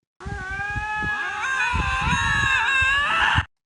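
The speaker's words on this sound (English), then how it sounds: "How about lynx cats?" Drawn-out yowling call of a lynx, a harmonically rich caterwaul that rises and bends in pitch over about three seconds, loud and close with some low rumbling underneath.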